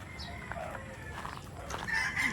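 A gamecock breeder rooster crows in a short, fairly faint burst, heard outdoors at a range area with light background noise.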